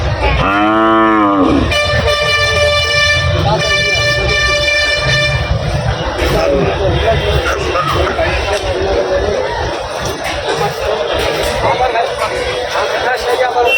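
Cattle moo loudly and close by at a busy cattle market in Shonir Akhra, with a long low call at the start, a horn-like drone, and constant crowd chatter and people talking throughout.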